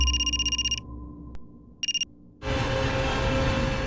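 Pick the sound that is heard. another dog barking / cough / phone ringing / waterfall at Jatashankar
phone ringing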